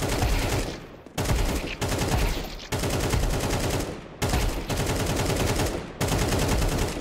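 Rapid automatic rifle spray in Counter-Strike 2, several sustained bursts of dense gunfire separated by brief pauses, loud and close.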